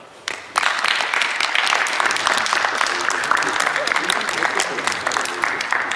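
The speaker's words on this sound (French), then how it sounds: "Et je pense qu'on peut s'applaudir." Audience at a tournament breaks into sustained applause after a brief quiet start, a dense, loud wash of clapping that holds steady to the end.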